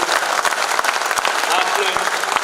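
An audience claps loudly and steadily in thick, continuous applause at a Hindi-Urdu kavi sammelan and mushaira poetry gathering. The applause fills the whole short stretch without a break.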